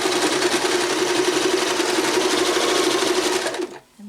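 A sewing machine runs a steady, continuous test stitch on a scrap of fabric, loud and close, its fast whirring rhythm holding for about three and a half seconds before stopping abruptly.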